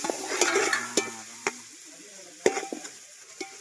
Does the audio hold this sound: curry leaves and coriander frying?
yes